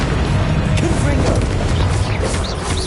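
A Confringo blasting spell in the video game Hogwarts Legacy sets off loud, dense, continuous booming explosions amid busy combat, with a voice calling out over it.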